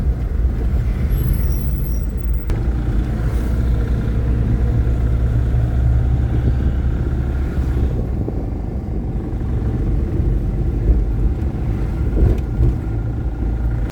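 A loaded goods vehicle's engine runs loud and close in a continuous rumbling drone as it pulls away. Traffic-like noise holds steady throughout, with no talking.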